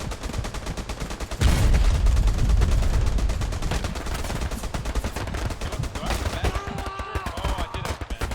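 Dense gunfire in the World War II shooter Hell Let Loose, including sniper shots, goes on continuously and loud, with rapid bursts and heavy booms layered together and a sharp surge of blasts early on.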